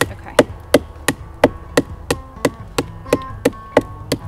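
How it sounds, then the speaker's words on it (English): A knife blade is hammered on its side to split a log, about a dozen sharp, evenly spaced knocks at a steady, brisk rhythm, close and loud, with no talking. "you're just going to keep hammering, not the middle here, but the side of your blade over here"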